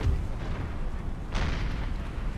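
Cannon artillery fire in the video game Empire: Total War, a distant booming shot rising out of a steady rumbling battlefield din, with more low thuds around it.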